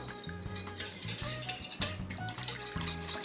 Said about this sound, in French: Je vais même utiliser un petit fouet. Je vais ôter du feu, je vais bien mélanger